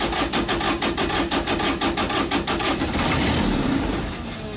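A salvaged Kubota three-cylinder engine cranks with a rapid, rhythmic starter chug for about three seconds, then catches into a loud, steady running roar that eases off slightly at the end.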